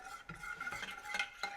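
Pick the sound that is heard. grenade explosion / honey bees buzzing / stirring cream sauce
stirring cream sauce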